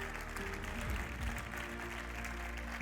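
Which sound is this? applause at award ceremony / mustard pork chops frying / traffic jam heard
applause at award ceremony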